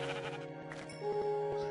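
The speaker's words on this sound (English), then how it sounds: "Stupid sheep." Sheep bleating in the video game Minecraft, a few steady wavering bleats in quick succession, fairly loud and close, with a sustained tone carrying through and no talking over them.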